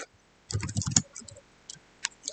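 Computer keyboard typing as code is entered, a quick burst of close, crisp key clicks followed by a few scattered single keystrokes in an otherwise quiet room.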